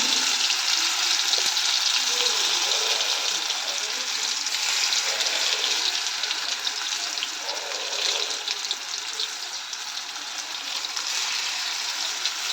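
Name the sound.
ash gourd fritters frying on low heat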